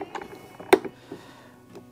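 The clamp of a rifle cleaning cradle is loosened with a few small mechanical clicks and one sharper snap, close up and quiet.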